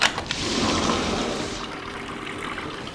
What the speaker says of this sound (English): we love the water feature there because who doesn't love the sound of water?